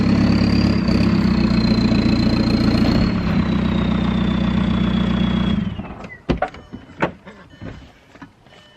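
A TDI vehicle's engine runs loud and steady while backing up, then cuts off after several seconds, leaving a few sharp clunks and knocks in the quiet that follows.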